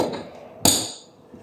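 A single sharp metallic tap from a makeshift hammer seating press-fit parts into an RC car during a build, striking once close up against quiet room tone.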